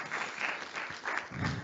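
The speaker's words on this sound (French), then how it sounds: "on peut vous applaudir" Audience applause in a conference hall, a short burst of clapping with uneven surges, moderately loud and steady for under two seconds with no talk over it.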